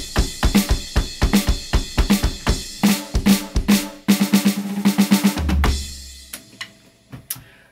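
Drum kit playing a groove, with steady kick and snare hits, a quick run of rapid strokes, then a low tom roll and a crash ringing out near the end; close and loud, no voices.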